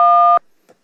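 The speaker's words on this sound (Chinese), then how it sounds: "这个呢，就是大家家庭电话按下去会发出来的声音" A combined dual-tone telephone keypad signal, the kind a home phone makes when a key is pressed, sounds loud and steady for about a third of a second, then cuts off cleanly into near silence with faint traces after.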